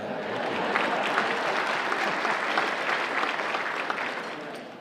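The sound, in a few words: audience applause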